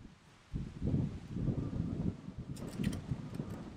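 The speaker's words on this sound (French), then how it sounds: "Ah, beaucoup de vent." Strong wind sweeps across the Golf de Saint François course in Guadeloupe, a steady low rumbling buffet against the microphone that rises after a quiet half-second and roars on with no talk.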